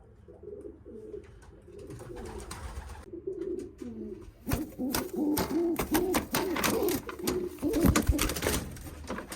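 Young pigeons coo steadily inside a loft, their low repeated calls rising into busier, overlapping cooing mixed with sharp clicks and wing flutters.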